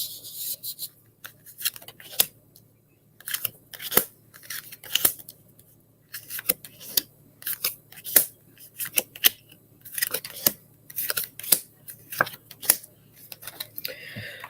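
Tarot cards shuffled by hand in a series of crisp, rapid riffling bursts and snaps, fairly close, with short pauses between shuffles and a low steady hum underneath.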